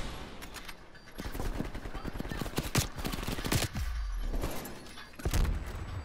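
Rapid automatic gunfire in a Search and Destroy video game match, with dense bursts of loud shots rattling in quick succession, brief pauses between volleys and sharp impact cracks, while voices talk faintly underneath.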